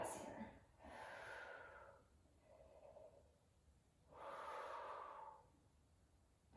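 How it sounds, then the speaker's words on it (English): Two long, deep breaths during a core-strength L-sit exercise, each a slow airy inhale and exhale, near and soft, separated by quieter breathing. "Deep breaths here."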